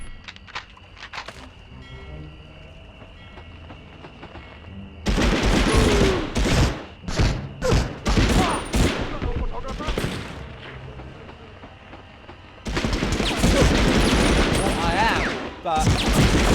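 Bursts of gunfire from the World War II shooter Medal of Honor Underground, with rapid loud volleys and single shots clustered in two intense stretches separated by quieter moments, with a voice talking in between.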